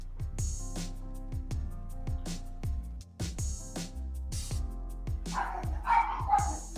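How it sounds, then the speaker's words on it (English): Dogs barking at home, repeated sharp barks and yips in quick bursts, fairly close and loud, over a steady background hum. "There my dogs go."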